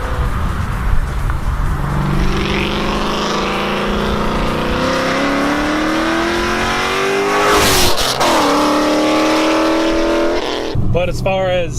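A Ford Mustang engine drones loudly and steadily, its pitch climbing and shifting as it builds toward a pass, surging to a brief roaring peak before falling away, with the car sounding close and dominant throughout.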